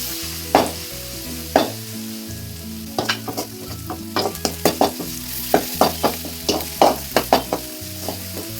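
Ginger garlic paste fries beside onions in a pan for a red fish curry, a steady close sizzle punctuated by repeated spatula scrapes that grow quicker and more frequent, over a low steady background tune.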